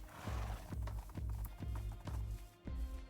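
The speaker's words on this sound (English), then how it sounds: "you've got this many horses dragging behind you" A string of horses in Minecraft clip-clopping along in an even, repeating hoof rhythm, close and clear, with a brief whinny among the steps.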